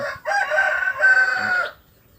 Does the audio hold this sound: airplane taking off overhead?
no